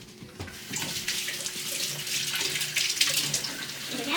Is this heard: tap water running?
yes